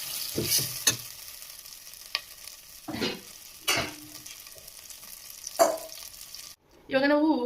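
Spiced masala fries in a home kitchen pan for a sprouted-legume bassaru curry. Soft sizzling runs under scattered stirring scrapes and clinks, ending in a brief burst of other noise.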